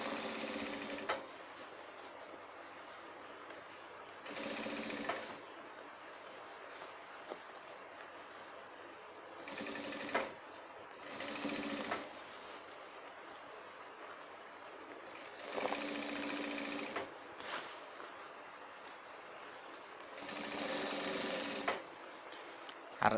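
A sewing machine stitches a shirt in several separate bursts of rapid, even whirring, each a few seconds long with quiet pauses between, close and clear.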